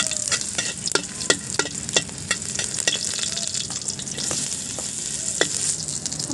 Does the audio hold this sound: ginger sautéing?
yes